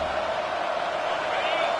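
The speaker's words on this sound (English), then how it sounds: "Listen to this crowd just shaking the girders of this place, trying to help their defense." A home crowd roars in the College Football 25 video game, a dense, steady wash of stadium noise that may sit under a voice.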